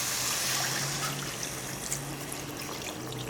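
Water trickles and pours steadily into a pan of paneer masala curry, a soft continuous liquid stream with small splashes and no voices.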